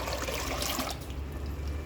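Water pours close up into a steel vessel while tomato pickle is being made, a continuous rushing splash with no talking.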